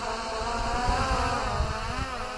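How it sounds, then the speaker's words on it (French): Brushless motors of an MJX Bugs 6 drone spinning at low speed give a continuous whirring buzz with a gently wavering pitch, fairly close and steady for the whole stretch. "vous entendez le petit bruit, un joli petit bruit au niveau des moteurs brushless"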